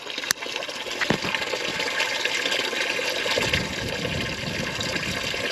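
Fluid drains steadily from a 1973 Peterbilt 352 cabover truck with a 12V71 Detroit Diesel engine, pouring into buckets as a loud, continuous gushing splash that holds on without break.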